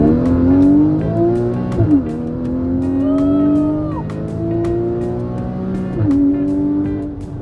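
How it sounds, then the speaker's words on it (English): A Porsche Cayman GTS with PDK gearbox climbs toward redline from inside the cabin, the engine note rising steadily through several gears with quick dips at each shift, loud and continuous. "test the red line of the car."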